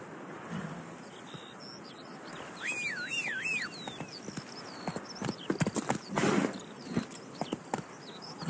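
Horse hooves clip-clop at a steady trot in The Witcher 3 video game, close and fairly clear, alongside rising and falling birdcalls and chirps in an outdoor ambience.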